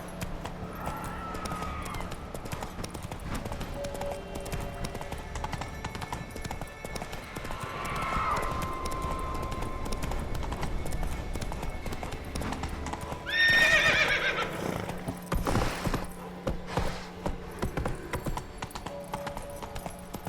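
A horse gallops and neighs in The Witcher video game. A rapid clip-clop of hooves runs steadily throughout, broken by several loud whinnies, with brief spoken commands from a rider.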